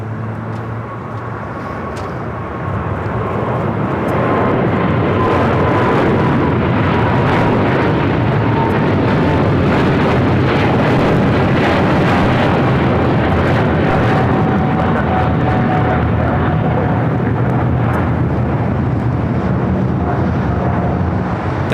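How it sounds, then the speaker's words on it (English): Eva Air Boeing 777-300ER heavy jet taking off from LAX runway 25 right, a loud sustained engine roar with broad rumble and a steady whining tone, building after the first few seconds and holding strong throughout. "That is Eva Air Flight 5 taking off to Taipei on a 777-300ER"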